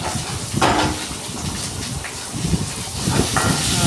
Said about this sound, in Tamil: இஞ்சி பூண்டு எல்லாத்தையும் போட்டு நல்லா வதக்கிடுங்க